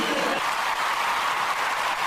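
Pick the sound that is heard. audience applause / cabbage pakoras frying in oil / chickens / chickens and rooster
audience applause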